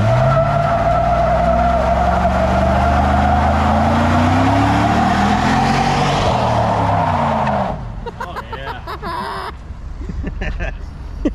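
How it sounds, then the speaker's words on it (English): A Camaro pace car does a burnout, engine roaring loud and close as tires squeal for several seconds before the noise drops off and mechanical clicks follow. "Burn rubber."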